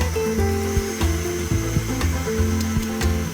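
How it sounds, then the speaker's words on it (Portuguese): A stand mixer whips egg yolks with sugar, giving a steady motor hum with a rhythmic, pulsing beat of the whisk close by. "E eu vou colocar já na batedeira."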